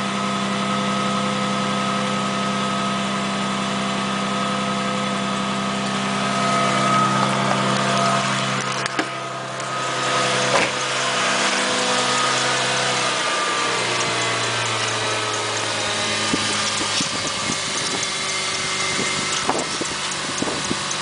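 A 2000 Ford Mustang idles after a cold start at -15°C, running slightly rough, with a steady, close engine drone and a faint hum that continues without a break. No one speaks.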